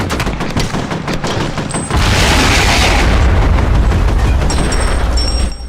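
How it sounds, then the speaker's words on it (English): Loud explosions and bursts of gunfire in the first-person shooter F.E.A.R., a rapid crackling volley giving way to a heavy sustained blast that rumbles on for several seconds. "Nice explosions, though."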